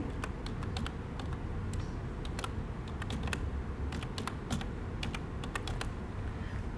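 Login details being typed on a computer keyboard for an eLearning platform, a close, brisk run of irregular key clicks in quick bursts over a steady background hiss, with no talking.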